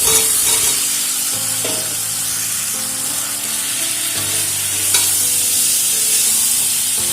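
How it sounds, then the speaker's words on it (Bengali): Fried new potatoes are stirred into frying spices in a pan: a continuous loud sizzle with scraping stir strokes, close up and alone. "এবার এর মধ্যে দিয়ে দেবো ভেজে রাখা আলু"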